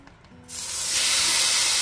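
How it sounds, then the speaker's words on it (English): Sudden loud sizzle bursts in after a quiet moment and keeps hissing strongly, the sharp crackling spray of chicken hitting a 500-degree grill. "This should sizzle real good."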